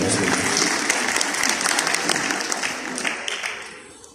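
Dense audience applause after a qawwali performance at Alhamra fills the space, many hands clapping steadily before gradually thinning and fading toward the end.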